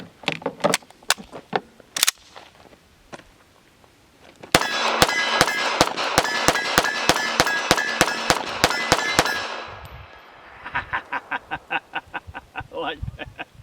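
Arex Rex Zero 1 S 9mm pistol fired at a range, a few separate sharp shots and then a fast string of about a dozen loud close reports with ringing echo, followed by softer rapid impacts. Voices are heard in the background.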